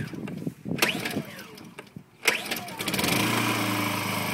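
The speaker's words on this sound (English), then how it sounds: "Generator is on." A Honda EU2000i tri-fuel inverter generator is pulled to start: a few sharp recoil tugs and sputters, then the small engine catches and settles into a steady close hum.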